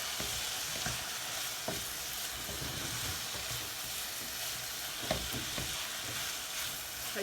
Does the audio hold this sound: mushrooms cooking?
yes